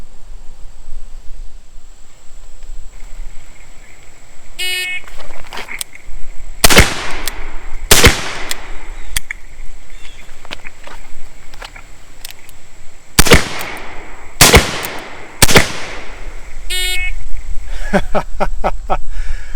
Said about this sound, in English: I'm going to shoot through this stage of fire